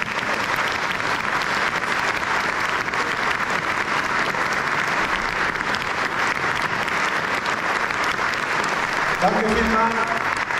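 Sustained crowd applause for a Swiss Federal Councillor at a public event, a continuous loud wash of clapping, with a brief spoken word near the end.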